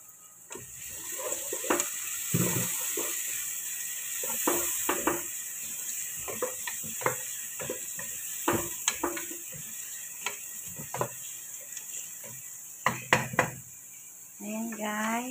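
Onions fry in a pan for white kabsa, a low crackling sizzle broken by frequent spoon scrapes, stirring clatter and pan knocks, fairly close with no talking.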